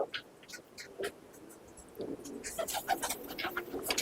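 Pigeons coo and call faintly in a loft or yard, several soft repeated coos and bird sounds rising toward the end, with light background noise.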